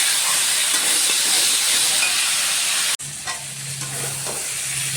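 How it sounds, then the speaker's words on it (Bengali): Spices frying in a pan with ridge gourd, potato and tomato, giving a loud, continuous hissing sizzle that briefly drops and then resumes with stirring sounds, with no talking. "মশলাটাকে একটু ভালো করে ফ্রাই করে নেব"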